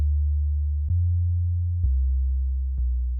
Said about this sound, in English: that's the first ingredient in creating a bass sound that works across your iPhone, your MacBook speakers, your high quality headphones